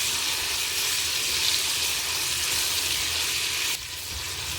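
Chopped tomatoes fry in a pan with onion, ginger and garlic for a restaurant-style maash daal, a continuous close bright sizzle with a brief shift in texture near the end as the mixture is stirred.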